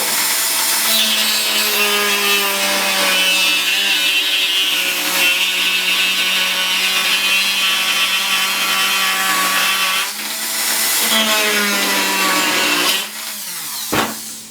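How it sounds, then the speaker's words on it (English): A Dremel rotary tool fitted with a metal-cutting blade saws through plastic while building a vented cat litter box, giving a loud, steady, high-pitched whine with harmonic tones that continues nearly throughout, then briefly dips and ends. "That happens quite a bit when you're cutting through plastic, especially if it was a blade designed for metal and not plastic."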